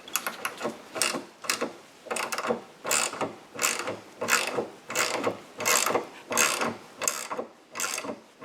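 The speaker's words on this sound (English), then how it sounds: "use this tool that they supplied to press in this new sleeve, and then just attach it with the bolt and nut" A ratchet tightens a bolt and nut to press a new clutch sleeve into a Saab 9-3 2.8T V6, giving repeated rhythmic clicking strokes about twice per second, close and clear, no talking.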